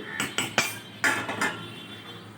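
A metal lid clanks down onto a pan of thin hilsa fish curry with potatoes, gatikochu and eggplant, making a cluster of sharp, close knocks and rattles across a couple of seconds in a quiet kitchen.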